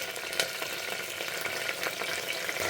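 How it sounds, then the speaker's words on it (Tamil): Spices and curry leaves sautéing in a hot pan give off a steady, close sizzle and crackle with small pops, with no voices. "இதெல்லாம் போட்டு நம்ம கொஞ்சம் வதக்கிக்கலாம்"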